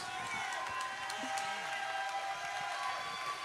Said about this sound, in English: Come on, give them a good clap offering here.